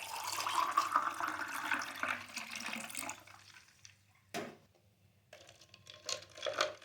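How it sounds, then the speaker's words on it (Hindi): Water pours into a glass of ice and lemon juice for a mint drink, a wet splashing run that fades out, followed after a pause by a brief clatter and more soft pouring. "पानी ऐड करेंगे।"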